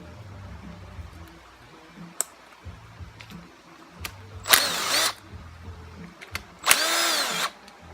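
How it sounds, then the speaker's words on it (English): A cordless power tool driving out bolts during a Z Machines high flow oil pump and clutch spring install: two loud, close bursts of whining drill-like spin, each about half a second to a second long, separated by quieter clicks and handling noise. "I'm going to use my power tools because I can."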